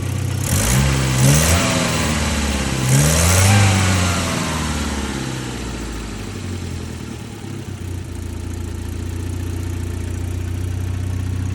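A 1984 Volvo 245 Turbo with a 250,000-mile shell, its engine blipped in two quick rising revs close by, each falling back, then settling into a steady low idle.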